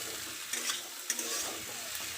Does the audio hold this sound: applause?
no